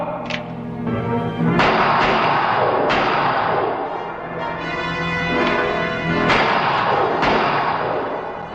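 Sharp gunshots crack out in a 1966 horror western, several loud reports spaced a second or so apart over a steady rumbling background.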